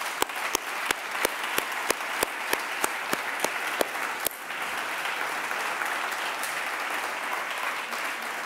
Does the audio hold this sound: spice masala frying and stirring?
no